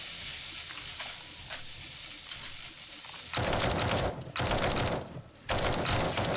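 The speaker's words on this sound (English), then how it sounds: "Switch over to the assault rifle." Assault rifle gunfire in the zombie survival game 7 Days to Die, loud sustained automatic bursts in three long runs with short gaps, following a quieter stretch of faint background hiss.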